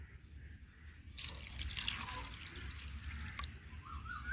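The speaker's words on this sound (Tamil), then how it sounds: "தண்ணி ஊற்றி ஊற வச்சுக்கிறோம்" Water pours into a vessel of washed toor dal to soak it. Faint drips come first, then a sudden rushing pour that continues steadily at moderate loudness.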